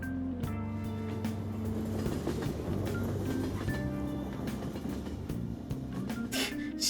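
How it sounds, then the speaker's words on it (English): Train in the Persona 5 Royal video game pulling into a station, a continuous low rumbling hum with tonal squeal bands and a few brief clacks, steady and moderately loud without speech. "Oh, the train is here."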